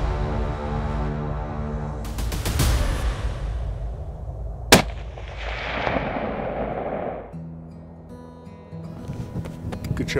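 A single sharp rifle shot cracks out at a mule deer on a Montana hunt, loud and sudden, followed by a fading rumble over steady outdoor background noise with some faint tonal hum.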